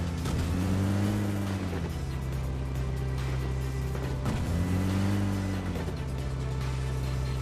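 A car driving in the video game PUBG Mobile, a steady engine drone that rises and falls twice as it accelerates, heard loud and continuous without talk.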